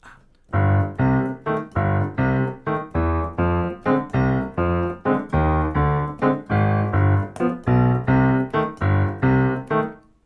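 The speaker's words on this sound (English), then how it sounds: "And it's basically a salsa stride." A solo piano repeats a bouncy, syncopated salsa stride left-hand pattern of low bass notes and chordal stabs, steady and close, for about ten seconds.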